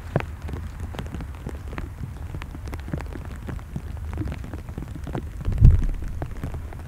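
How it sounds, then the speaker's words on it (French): Light rain tapping on a plastic camera cover close by in a cemetery, scattered sharp little clicks over a low steady patter, with one heavier knock near the end. "si vous entendez des petits claquements, c'est la pluie"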